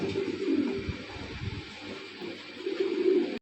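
Pigeons coo softly and repeatedly, low throaty calls close by, over a faint background hum.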